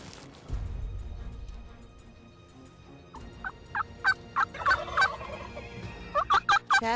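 Wild turkeys gobbling in a Nebraska pasture, a series of loud rattling gobbles in quick bursts, some overlapping, after a low thump and quiet outdoor ambience.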